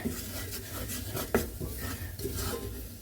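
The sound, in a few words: stirring curry powder mixture with carrots in a pan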